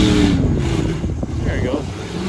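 A RAM 1500 truck churns through mud with one wheel spinning, its engine roaring loud and steady from close by while people talk over it.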